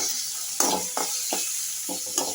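Tomatoes fry in a pan with turmeric, a soft continuous sizzle broken by several distinct scraping strokes of a spoon against the pan, close and without talk.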